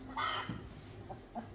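A chicken clucking: a short burst of squawking followed by two quick soft clucks, near and moderately quiet.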